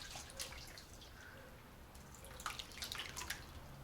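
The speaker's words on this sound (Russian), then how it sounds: "Вот мой будущий творог, сейчас он здесь течет" Homemade curd drains from cloth into a container, giving small irregular drips and trickles of liquid over a faint background, with a few brighter splashes near the end.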